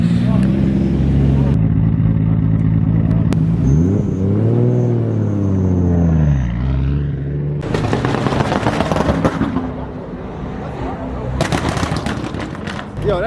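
A straight-piped BMW M4 F82 idles loudly, then revs up and back down with a rising and falling roar, followed by crackling, popping exhaust bursts, at a car meet.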